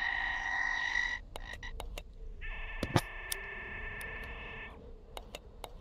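Frog croaking effect from a Gorilla Tag mod menu: two sustained, loud buzzing croaks separated by a pause, with sharp game clicks and ticks scattered throughout, no talking.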